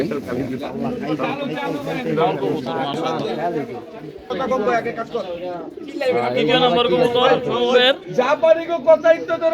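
Racing pigeons coo repeatedly close by at a pigeon club race tournament in Mirpur, their soft throaty calls mixing with people talking excitedly over them throughout.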